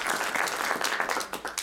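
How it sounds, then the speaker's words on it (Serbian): An audience at an evening book presentation applauds the author, with a dense, fairly close wash of many hands clapping that holds steady throughout. "I jedan veliki aplauz za autora knjige, što je povod ovog našeg okupljanja i ove večeri."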